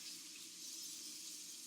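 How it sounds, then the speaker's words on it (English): Warm water runs steadily from a tap into a sink, a continuous soft hiss of flowing water with no talk. "So all we're going to do is get our warm water going."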